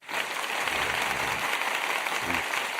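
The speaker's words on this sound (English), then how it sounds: "I gotta do another applause for her" Applause in tribute to the late singer, a dense, steady clapping wash that holds for the whole stretch, with a couple of brief low voice murmurs underneath.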